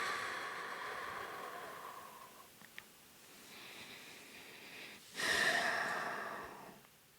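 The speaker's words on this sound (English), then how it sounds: "take our final deep breath right here, right now, in through the nose, deep into the diaphragm. Hold it at the top. Exhale nice and strong." A single deep breath drawn in through the nose during a calm guided meditation, soft and close, then a pause before a strong, breathy exhale pushes out and fades.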